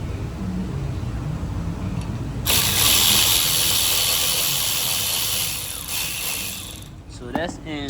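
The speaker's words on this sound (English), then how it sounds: "I'm going to go ahead and use my 3/8 driver" A 3/8 ratchet driver turning bolts while working on Ford Transit brakes gives a steady clicking and whirring run of several seconds, close and fairly loud, with someone talking briefly near the end.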